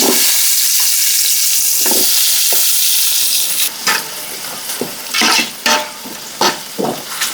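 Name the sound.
onions sizzling in hot oil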